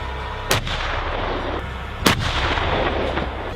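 Two heavy blasts from an M1 Abrams tank's 120mm smoothbore cannon, about one and a half seconds apart. Each sharp boom is followed by a long, rumbling roar that lingers between shots.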